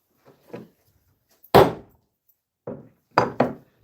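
Hammer striking metal letter stamps onto rounds, a few sharp close blows separated by uneven pauses, one loud hit followed by a pair of quick strikes near the end.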